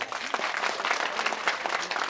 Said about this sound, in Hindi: आप अपने लिए एक बार जोरदार तालियां बजाइए